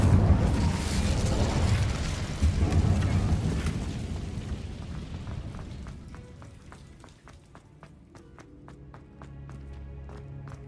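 Incendio fire spell cast in the Hogwarts Legacy game on hard difficulty: a dense, loud roaring burst of flame for several seconds, fading into quieter magical chimes and sparkling tones.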